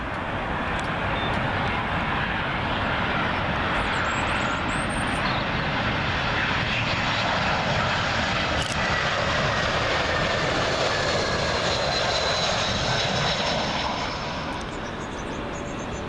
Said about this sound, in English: British Airways One World livery A320 in from the Emerald Isle of Dublin